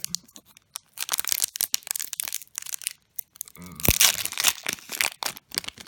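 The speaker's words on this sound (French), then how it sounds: "je vais vous ouvrir le premier booster" A Magic: The Gathering booster pack from the Dragons of Tarkir set is torn open and crinkled by hand, giving a series of close, irregular crackling rips and foil crunches with short pauses between them.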